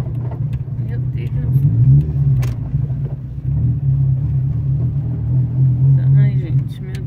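An old car's engine rumbles steadily and close by, a low throbbing drone that holds for several seconds with slight swells in revving while a person speaks over it.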